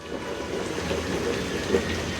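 Cauliflower and cabbage frying in a pan with garlic and onion for a vegetable noodle dish, a dense steady crackling sizzle heard close up with no talk.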